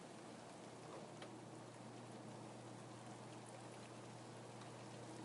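Steady rain falls on a glass window pane, a dense, even hiss of drops that continues without pause for the whole stretch, with no voices.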